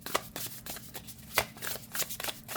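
Matte-finish tarot deck being shuffled by hand, a quick series of crisp papery riffles and flutters with sharper slaps at intervals, close and fairly quiet with no voices.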